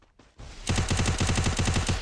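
Rapid automatic gunfire in Garena Free Fire: after a brief lead-in, a long, loud, evenly spaced string of about fifteen close shots rattles out, with no voices.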